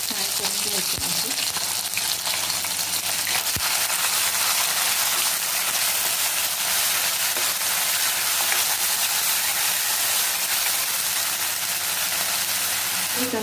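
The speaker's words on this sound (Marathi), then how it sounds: "ते फ्राय करून घ्यायचं आहे." Ground curry leaf paste frying in a pan for a Marathi river fish curry, a steady close sizzle with hissing, spitting crackle throughout and a couple of small clicks.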